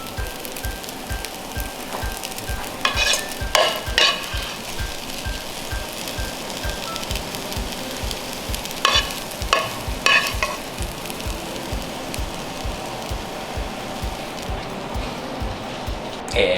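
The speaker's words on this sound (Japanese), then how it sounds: "最後はもう強火であえてます。" Jinhua ham fried rice stir-fried in a wok over high heat in a Chinese restaurant kitchen, with steady loud sizzling and a regular thumping rhythm of tossing and scraping, close and without talk.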